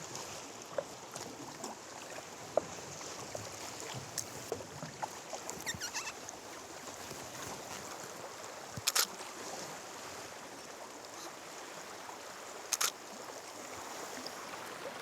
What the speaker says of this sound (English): out paddling on Golden Bay in the early light of dawn